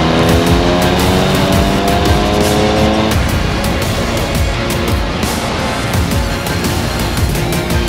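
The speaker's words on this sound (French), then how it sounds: "La voiture elle broute." A car engine judders and stutters under load, first a loud steady drone, then a rough, uneven rumble with rapid pulsing bursts, close and continuous with no talking.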